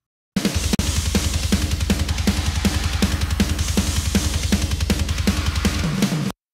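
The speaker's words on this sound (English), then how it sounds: "So the drums sound like this, all three tracks together." A full processed drum kit with three layered drum tracks playing together, a steady loud beat of punchy kicks and crisp hits running continuously, no voices.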